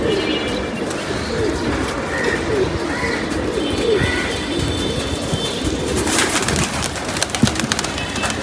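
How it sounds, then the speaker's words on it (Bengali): Pigeons cooing and fluttering outdoors as a flock descends from height, soft repeated calls over a steady background murmur, with a brief rattling burst near the end. "হাইট নামতেছে কবুতর অনেক হাইট নামতেছে কবুতর"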